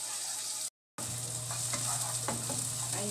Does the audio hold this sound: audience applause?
no